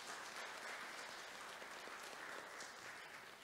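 A church audience applauds, a dense, even patter of many hands clapping together that holds steady throughout at a moderate distance.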